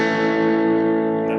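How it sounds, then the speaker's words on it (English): An Epiphone Flame Kat electric guitar played through distortion sustains a single thick, harmonically rich chord or note that rings steadily and slowly fades, with a faint reverb tail. "Now I'm going to get some distortion sound"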